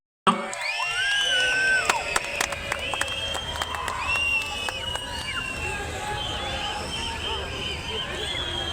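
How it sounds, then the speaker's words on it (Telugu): A large crowd at an outdoor kite festival in Hyderabad, Telangana, applauding and cheering in a continuous wash of clapping, with shouts, children's voices and whistles over it. "మీ హర్షాతిరేకాల్ని చప్పట్లతో తెలియజేయాల్సిందిగా నగర వాసులు"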